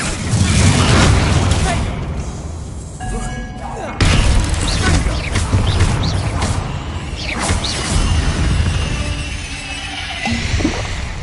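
Bombarda spell explosions in Hogwarts Legacy, loud booms with shattering, crashing debris over a heavy game soundscape, a sharp blast near four seconds and further impacts afterward, with speech at times.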